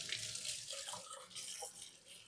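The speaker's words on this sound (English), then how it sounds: "Wash my hands." Running tap water splashing over hands at a kitchen sink during holiday bread baking, a steady close hiss and spatter for about two seconds with no talking.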